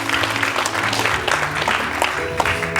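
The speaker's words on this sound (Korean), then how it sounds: "여러분 다 같이 큰 박수 부탁드리겠습니다" Audience applause at a civic and school education roundtable forum in Uiseong, a continuous wash of clapping with musical tones running beneath, fairly loud and steady throughout.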